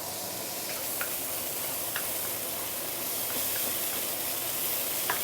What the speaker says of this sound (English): Let's saute this for a while before we continue.